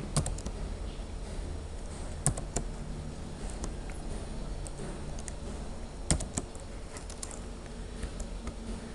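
Keys clatter steadily on a computer keyboard throughout, a dense patter of close taps with a few sharper clicks standing out, no voices over it.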